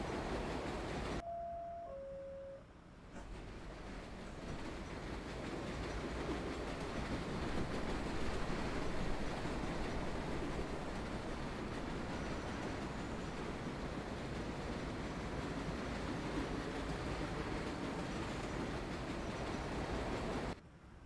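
A subway train running in the World of Subways 4 game, a steady loud rumble of wheels and motor that holds for the whole stretch, with two brief tonal chime notes near the start.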